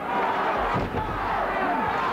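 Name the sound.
wrestling match crowd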